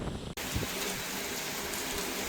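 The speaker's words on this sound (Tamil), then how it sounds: "இப்போ வந்து மழை பெய்து கொண்டு இருக்குது" Moderate, steady rain falls in a garden, a dense, even hiss of drops on surfaces that starts abruptly and continues without pause.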